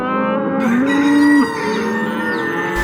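A cow moos loudly and close on a farm at morning milking time, one long sustained low call with a rising pitch bend, heard alone.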